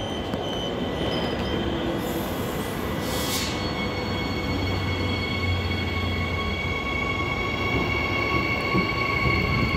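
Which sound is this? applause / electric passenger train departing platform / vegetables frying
electric passenger train departing platform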